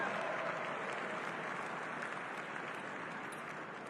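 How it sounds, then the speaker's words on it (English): Applause from a large audience at a National Republican Congressional Committee event, steady crowd clapping heard from a distance and fairly faint, fading slightly toward the end. "Round of applause."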